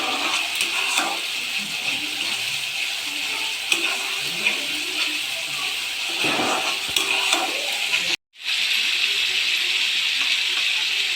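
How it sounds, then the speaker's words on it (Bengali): Fried masala with cashew and melon seed paste stirred in a pan for fish kalia gives a steady, close sizzle with light scraping, broken by one brief dropout near the end. "মশলাটা নাড়তে থাক যতক্ষণ না কষা হচ্ছে"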